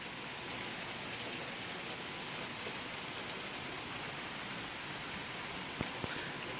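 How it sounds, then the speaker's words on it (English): Heavy rainstorm pouring down outside a house, with some wind: a steady, dense broadband hiss of rain holding constant throughout, with a couple of brief sharp knocks near the end. "As you can hear, we have massive rain out here"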